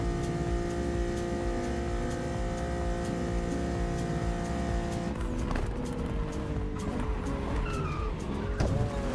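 A Porsche 911 driving in The Crew Motorfest racing game, a loud steady engine drone with tire squeal and skidding as the car pushes through corners, shifting in pitch near the end.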